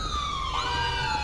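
Emergency vehicle sirens from the video game GTA 5, with ambulances arriving, wail loudly and continuously. Several overlapping tones sweep up and down over a low rumble.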